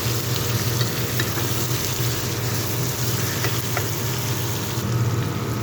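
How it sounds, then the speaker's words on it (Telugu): Fish pieces being stirred in a hot pan produce a dense, continuous sizzle and frying crackle, with occasional light scrapes, loud and close. "చేప ముక్కలు వేసాను, ఒకసారి కదపాలి."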